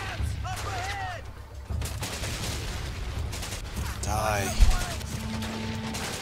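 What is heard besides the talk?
gunfire in video game Medal of Honor: Pacific Assault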